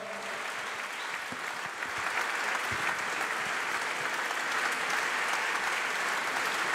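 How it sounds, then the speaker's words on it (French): Sustained, dense applause from a gala audience fills the room, steady and loud throughout and swelling slightly after a couple of seconds. "On peut l'applaudir très très fort."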